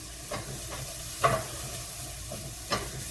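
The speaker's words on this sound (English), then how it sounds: "You can hear them sizzling in there" Vegetables with a pinch of salt frying in a pan for eggplant parmesan: a soft, steady sizzle broken by a few brief stirring scrapes, close and fairly quiet.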